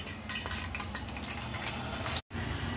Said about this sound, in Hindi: तेल में अक्खे गरम मसाले को हम 10 से 20 सेकंड पका लेंगे